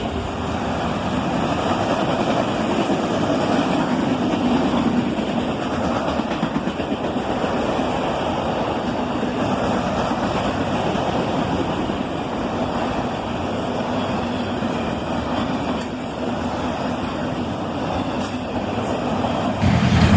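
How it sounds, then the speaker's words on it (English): A long autorack freight train rolls past at Carlisle with a steady, unbroken rumble and clatter of rail cars, holding an even loudness for the whole stretch with no voices. "These long autorack trains are a very common sight here at Carlisle."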